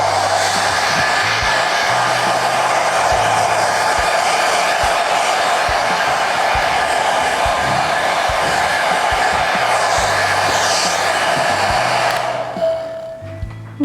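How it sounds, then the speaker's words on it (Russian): Hair dryer blowing to dry water-based paint, a loud steady close whoosh and whine running continuously before cutting off near the end. "теперь сушим феном"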